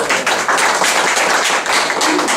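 Audience at a Goose Creek District scouting meeting applauding in a steady, dense wash of clapping that fills the room without pause, loud and close with no talk over it.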